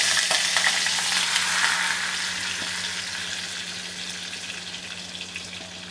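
Loud, continuous sizzling of a paste of onion, tomato, curry leaves and garlic frying in hot oil for dried fish thokku, with faint stirring, slowly settling to a softer crackle.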